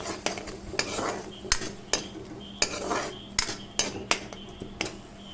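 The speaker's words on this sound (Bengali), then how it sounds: "দিয়ে দেব অল্প জল এবার কিছু নাড়িয়ে দেবো" Chicken curry being stirred in a pan after a little water is added: a regular series of sharp metal spoon clacks against the pan over a low simmering hiss, fairly close, no talking.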